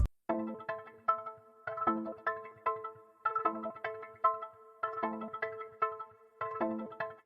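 Repetitive synth note played from the Output Arcade sample library's 5 elements library, a single pitch looping in short rhythmic phrases with gaps, clear and alone with no talk.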